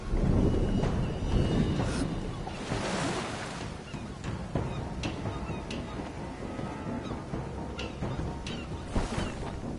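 In the survival game Stranded Deep, a stormy ocean rumbles with rushing wind and crashing surf. The roar is loudest at the start and settles into a steady wash with occasional sharper gusts.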